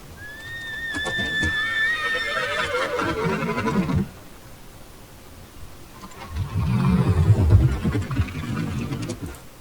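A horse's whinny slowed to half speed, drawn out and lowered in pitch, with buzzing undertones, then a deeper rumbling stretch toward the end.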